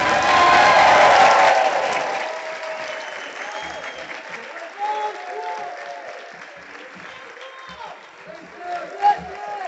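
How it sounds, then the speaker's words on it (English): Crowd applause and cheering for a graduating eighth-grade class at a school promotion ceremony, loud and dense at first, then thinning into scattered clapping with a few voices and whoops over the next several seconds. "congratulations and a round of applause to the class of 2026"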